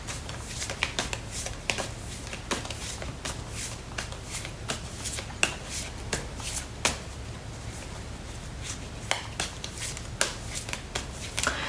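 A deck of tarot cards is shuffled up close. The riffles and rustles come in quick irregular bursts with crisp slaps, and the room is otherwise quiet.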